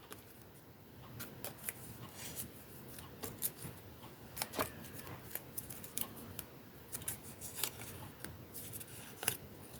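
Paper name slips for a prize draw being unfolded: close, dry crinkling and crisp rustles in irregular bursts, with short sharp crackles scattered through a quiet room.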